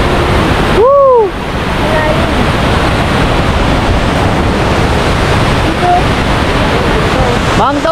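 A strong, constant rush of falling water at Mangta Falls in Bakun, Benguet fills the whole stretch, loud and close, with a brief whoop of a voice near the start and another near the end.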